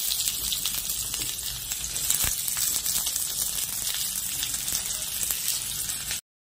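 Steady, dense sizzling of potatoes frying in a pan, continuous and close, with a brief louder crackle partway through.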